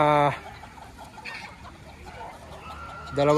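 Gray and white Kelso gamefowl chickens on a farm in Lipa, Batangas give loud, close clucks at the start and end of the clip, separated by a quieter stretch of faint farmyard background.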